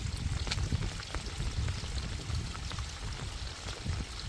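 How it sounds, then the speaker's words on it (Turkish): Rainwater pours and splashes steadily from a house gutter system at a building entrance during rain, a close, continuous wash of water with patter on hard surfaces. "evin giriş kısmına yaptığımız oluk sistemiyle direkt aşağı akıyor bakın"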